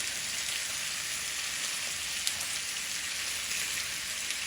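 Fish coated in an onion masala fries in a pan, giving a steady, even sizzle and crackle like light rain, close and continuous with no talk.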